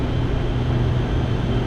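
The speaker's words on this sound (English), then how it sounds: "I can get rid of this air leak over here" Steady broadband rush of wind and road noise fills a Honda S2000 CR cabin while cruising in sixth gear, an air leak near the window adding a constant hiss over a low droning hum, with no talking.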